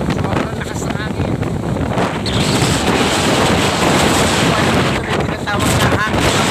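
Very strong wind roars loud and steady against the microphone without a break, with gusty buffeting throughout and a voice speaking beneath it.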